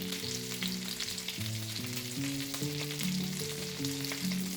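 Meatballs frying in a pan, a constant crackling sizzle under soft background music, with no talking.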